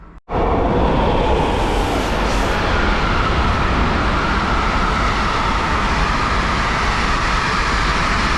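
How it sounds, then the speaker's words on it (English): A container freight train rolls past close by somewhere in Germany, a loud, unbroken roar of wheels and wagons that holds steady from just after the start to the end. "So that's container trains, which is used for logistic transport."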